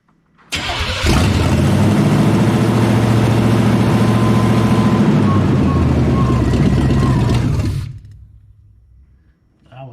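A Chevrolet 454 V8 fires up and settles into a loud, rough idle close by, running steadily for several seconds before it cuts off and falls quiet.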